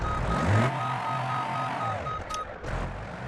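A truck in BeamNG.drive backs up with a steady run of evenly spaced reversing beeps over a low engine rumble, a brief higher hiss near the end.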